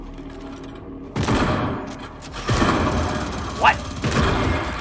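A video game turret fires at the player in loud, separated bursts of automatic gunfire, each a few seconds apart, with a man's brief startled exclamation between them.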